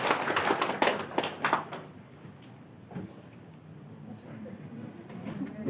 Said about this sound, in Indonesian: Beri tepuk tangan ya Bapak Ibu biar hangat suasananya ya.